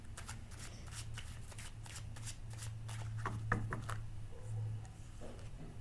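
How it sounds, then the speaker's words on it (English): Tarot cards riffle and slap in quick, irregular bursts of shuffling close up, over a faint low hum, with no talking. "And get a good shuffle for this one."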